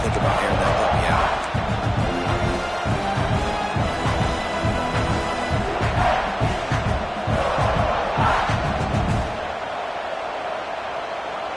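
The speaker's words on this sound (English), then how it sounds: "This crowd going to try to make life miserable for these guys." A loud stadium crowd roars and cheers through a football game, with a dense and sustained wall of noise that swells in waves before easing somewhat near the end.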